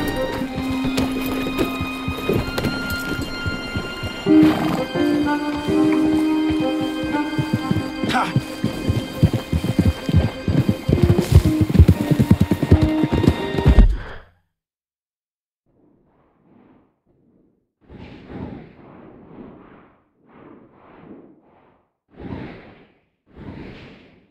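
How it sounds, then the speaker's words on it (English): Horse hooves clip-clop at a gallop in the Red Dead Redemption 2 western game, a dense rhythmic pounding under music and whooshes that cuts off abruptly, followed by quieter scattered movement sounds and faint voices. "We could grab those horses if you want."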